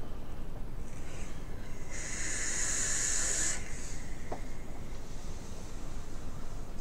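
A vape drawn with the airflow fully open gives a steady breathy hiss of about a second and a half. It sits over constant low background noise, with no talk.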